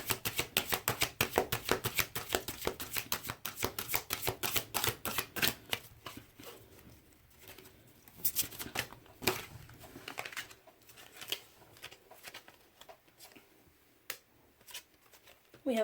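Tarot cards shuffled and drawn by hand, brisk dense riffling clatter early, then sparser flicks and slaps of single cards, close and crisp.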